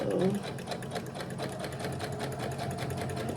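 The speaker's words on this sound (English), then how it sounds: "the sewing machine will feed it right after" A sewing machine stitching ribbon trim onto tutu fabric runs steadily throughout, its rapid needle stitching forming a continuous mechanical whir, close and moderately loud.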